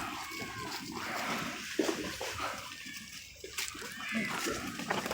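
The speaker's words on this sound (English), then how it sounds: "And into the water with the part duck dogs." Dogs on a pack walk splash into water, making irregular sloshing and splatter with scattered bursts. Voices talk over it throughout.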